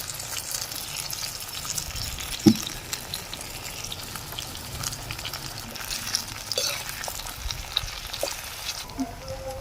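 Eggplant pieces fry in oil with curry leaves, a steady close sizzle running throughout with occasional stirring clinks and one sharper knock partway through.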